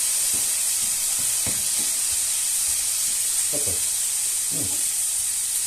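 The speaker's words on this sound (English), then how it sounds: "And add your pasta to your meat. Now, they should finish cooking together." Pasta and meat sizzling together in a pan for coquillettes carbonara: a constant bright hiss with scattered soft clicks and scrapes from stirring, close and even throughout.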